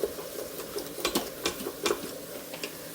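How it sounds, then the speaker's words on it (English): Spoon scraping the bottom of an Instant Pot holding onions, garlic and carrots. Several short, sharp scrape strokes come close together, close by and fairly faint, with no voice. "while I scrape the bottom of the pot."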